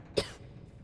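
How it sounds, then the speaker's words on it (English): A single short, sharp cough from a Starfield character, a wearer of a miner's helmet, heard close and alone over faint background hum. "The cough doesn't sound good."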